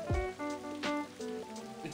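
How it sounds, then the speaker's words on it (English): Steady rain falls in the video game Blue Reflection Sun, a soft continuous patter with faint musical tones ringing underneath, with no voices. "I was listening to the sound of the rain."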